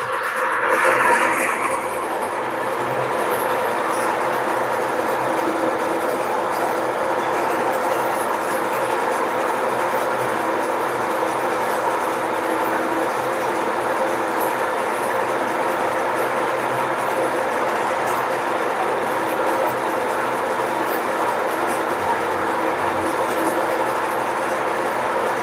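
A lathe steadily cuts a cam bushing for a brake system, producing a continuous, even machining roar throughout with a brief louder moment at the start.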